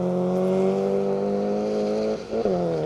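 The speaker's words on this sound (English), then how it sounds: "Another one of the MGs making his way through." An MG rally car runs a forest stage at Greystoke, its engine a loud steady drone near the microphone, with a quick lift-off and re-acceleration shift late on.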